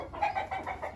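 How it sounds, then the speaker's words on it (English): A racing pigeon in a loft gives a few soft, rapid, pulsing coos at close range. Quiet room noise fills the background, and no one speaks. "This is a Ty Tommy bird right here."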